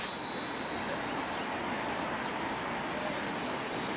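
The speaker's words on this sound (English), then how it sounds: "you will see eventually the helicopter comes to a stop by itself" A high-pitched motor whines steadily over a broad whooshing rotor wash, a small RC helicopter hovering close by without pause.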